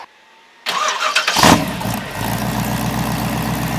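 A V8 engine in a Fiero-based Lamborghini replica kit car (LT1) cranks, catches with a loud roar and a quick rev, then settles into a deep, lumpy idle.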